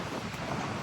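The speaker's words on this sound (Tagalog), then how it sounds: "Mahangin." Steady wind buffets the microphone outdoors in a brief, constant broadband rush with no voices.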